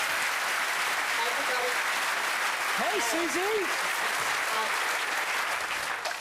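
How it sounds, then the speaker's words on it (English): A studio audience applauds steadily throughout at a TV show, with a brief greeting spoken partway through over the clapping. "Give her a round of applause."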